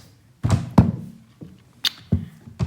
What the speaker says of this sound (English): I'm normally banging on my table.